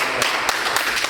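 A seated audience claps for themselves at a training session, producing a steady patter of hand claps with a few sharper individual slaps standing out. Brief, moderately loud and close.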